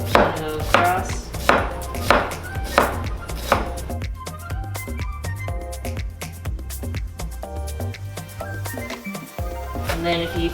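A kitchen knife chops an onion on a cutting board, the blade striking in a quick, steady run of sharp close taps that give way to looser rough chopping, with background music and a voice talking throughout.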